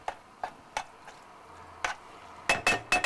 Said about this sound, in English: here we start with the vagar of the dal, roasting the spices